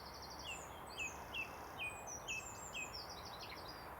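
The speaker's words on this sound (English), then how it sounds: "And bang on cue in the background, the song thrush is out." A song thrush sings in the background at just after four o'clock on a country walk near Market Harborough, Leicestershire, giving a series of fairly faint, repeated bright phrases over quiet outdoor ambience.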